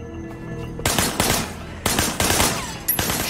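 Gunfire in the Sleeping Dogs video game on PS4: loud bursts of rapid shots, several separate volleys with short gaps between them, close and harsh over quieter game ambience.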